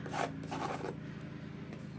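Two quick, rasping scrapes of a tool dragging paste across an album cover in mixed-media artwork, followed by quieter faint rubbing.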